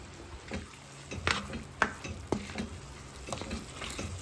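Mixed vegetables simmering in coconut milk in a pan, a soft bubbling sizzle broken by several sharp utensil knocks and stirring clinks against the pan, close and moderately quiet.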